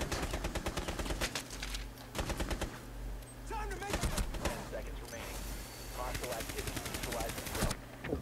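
Gunfire in a multiplayer shooter video game: sharp rapid-fire bursts and single shots come in clusters, loud and close, with players talking over them.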